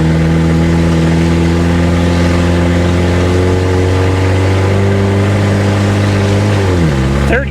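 1991 Plymouth Colt Vista with a 4G63 Mitsubishi engine pulling hard through a gear, loud steady engine drone rising in pitch, then a sharp dip as the driver shifts near the end.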